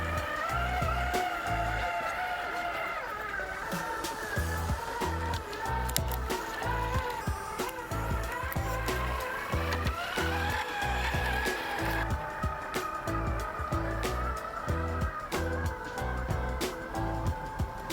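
A Hobbywing Quicrun Fusion brushless RC car with new tires drives outdoors, its electric motor whining and rising and falling in pitch as it speeds up and slows. The whine repeats in uneven bursts, mid-distance and moderately loud.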